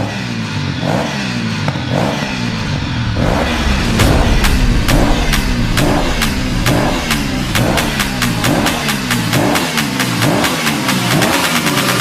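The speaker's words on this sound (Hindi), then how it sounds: "तभी एक गाड़ी शैतान की तरफ आती है।" In a 3D horror cartoon, a car comes toward a creature in a forest, its engine revving loud and near, with a steady pulsing rhythm that speeds up as it draws closer.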